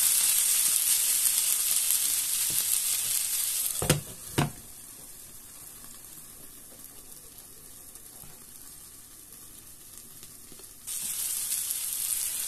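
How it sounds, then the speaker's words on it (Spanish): Food sizzles gently in a frying pan for Turkish eggs, a steady hiss with two brief knocks of stirring, then quieter frying before the sizzle swells again near the end. "Solo pochadito. Pero así, moviendo con frecuencia para que no se os queme."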